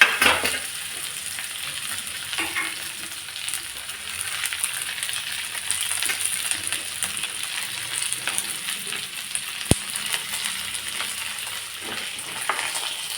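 Mustard seeds and okra (bhindi) fry in a pan with a continuous close sizzle and fine crackling pops, broken by a sharp metallic tap near the end.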